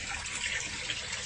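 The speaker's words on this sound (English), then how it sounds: "water flows through this pipe" Water runs through a pipe in a backyard aquaponics system, a steady soft rushing and trickling that stays faint and even, with no voices.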